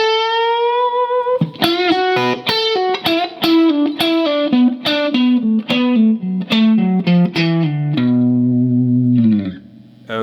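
An electric guitar plays a guitar solo line with chorus and distortion. A long bent opening note gives way to a quick run of picked notes, then a sustained bend that fades into reverb. It sounds loud and close, with no talking.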